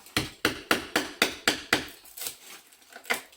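A hammer taps on a fire surround with about a dozen sharp, evenly spaced knocks, strong and close at first and then lighter and more irregular toward the end, with no voices.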